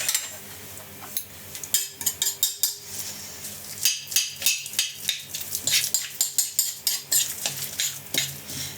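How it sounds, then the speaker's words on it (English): A spoon stirs a wild garlic mixture in a bowl, giving repeated scraping, clinking strokes with a wet, sizzly texture. The strokes are close and fairly loud, and no one speaks over them. "Just give it a stir."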